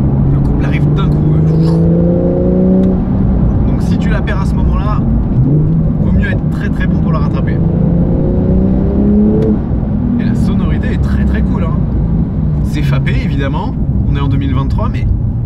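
Porsche 911 Sport Classic turbocharged engine pulling hard in fourth gear, its tone rising through repeated climbs and dropping at each lift, heard from inside the car with people speaking over it.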